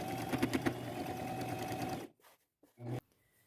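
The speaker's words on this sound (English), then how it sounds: "do a top stitch catching that seam allowance on the back side that we just ironed down" Domestic sewing machine running steadily as it topstitches a seam on thrifted fabric, with a loud continuous motor whir and needle chatter for two seconds, then stopping and giving one brief short burst.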